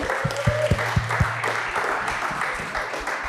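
Clapping from a crowd runs steadily throughout, dense and even, with a few louder low thumps near the start.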